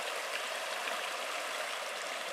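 Mountain stream rushing out of Upper Kintla Lake in Glacier National Park, a steady broadband wash of flowing water that holds constant and fairly close throughout, with no voices.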